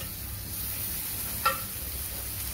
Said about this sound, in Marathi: आता मी टमाटर टाकते याच्यामध्ये